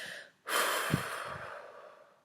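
A person blows out one long, breathy exhale. It starts abruptly, stays close and steady for nearly two seconds, then fades softly.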